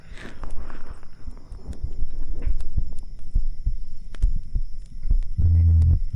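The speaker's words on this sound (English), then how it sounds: "I wanna do some heartbeats for a little bit." A heartbeat in an ASMR session recorded on a 3Dio binaural microphone comes through as close, muffled, low thumps repeating at an even pulse, with a deep hum swelling near the end.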